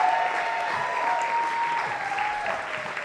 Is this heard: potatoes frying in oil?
no